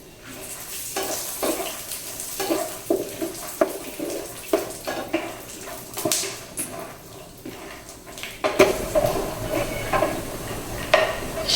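Peanuts frying in oil in a pan for a chana dal and urad dal chutney, a steady close sizzle broken by repeated scraping stirs and light clinks of a spoon against the pan.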